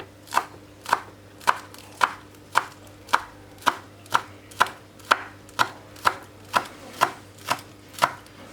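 A knife chops green onion on a cutting board for a homemade sardine banh mi, with about sixteen crisp, evenly spaced strikes sounding close and clear over a low steady hum.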